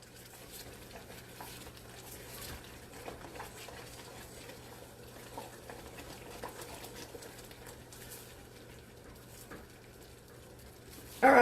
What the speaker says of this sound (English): once it starts boiling like this, you're going to go around the sides